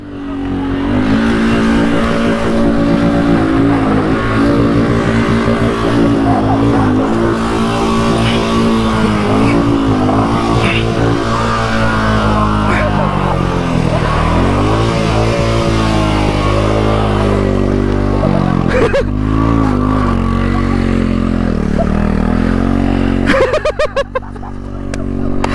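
A Royal Enfield Himalayan 450 motorcycle engine labors loudly and steadily through an off-road water crossing, its revs rising and falling over a sustained drone, with the bike close by until the sound cuts off near the end.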